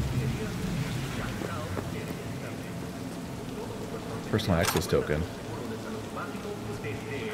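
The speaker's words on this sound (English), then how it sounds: "It's raining again. I love the rain." Steady rain falls in the Cyberpunk 2077 game world, a continuous wash of drops on surfaces running through the whole stretch, with a voice speaking over it and a brief louder burst of other game sound midway.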